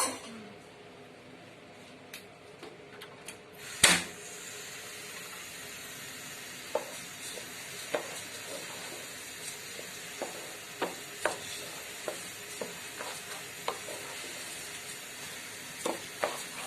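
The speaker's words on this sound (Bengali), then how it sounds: "চালটা একটু ভেজে নেব।" About 800 grams of raw rice is fried and stirred in a pot for chicken biryani, giving a soft hiss with scattered scrapes and clicks of the spoon and one sharp clatter early on, fairly quiet.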